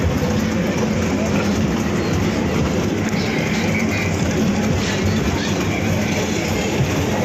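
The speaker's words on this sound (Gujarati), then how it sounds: "જોઈ લ્યો આ ટ્રેન જાય જ છે." A passenger train running on rails between Rajkot and Junagadh produces a loud, continuous rumbling roar with a steady rattle, heard from on board and close.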